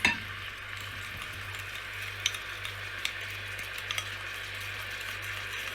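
Potato pieces frying in a pan for braised homemade chicken, a soft steady sizzle after an initial clatter, with a few small pops and clicks, no speech.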